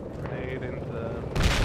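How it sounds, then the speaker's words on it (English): Grenade explosions in a military shooter video game set downtown. A steady low rumble runs throughout, then a loud, broad, close blast erupts near the end and rolls on to the finish. "Those grenades were close"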